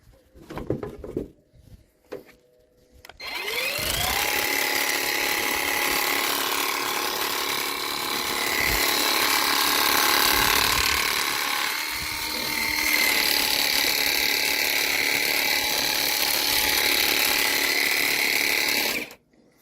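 A YATO YT-85930 18V cordless pressure washer spraying foam gives a steady, loud mechanical whirring spray with a hissing whine, running continuously after a few brief clicks at the start.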